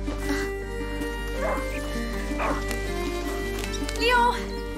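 Leo, a hunting dog in the video game A Plague Tale: Innocence, gives several short yipping barks spread through the clip, fairly close and over a steady low game hum.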